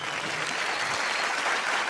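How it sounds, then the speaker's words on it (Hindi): Studio audience at a comedy circus show bursting into loud, sustained applause, dense steady clapping filling the whole moment without any talk. "एक बार मुन्नी के लिए जोरदार तालियां।"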